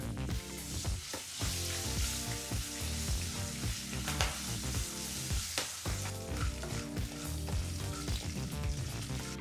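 Chillies, curry leaves and turmeric fry on a low flame, giving dense, continuous sizzling and crackling up close for several seconds with no voices.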